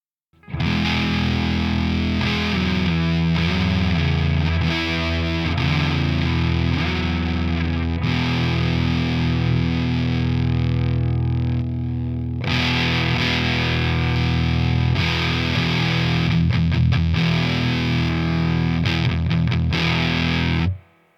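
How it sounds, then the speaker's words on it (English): Electric guitar played through a fuzz pedal with the drive section of a Triptychon pedal switched on, giving a loud, thick, distorted tone with sustained chords and some riffing, a brief quieter gap midway, no talking. "I'll play it again, this time with the amp section or the drive section of the Triptychon turned on."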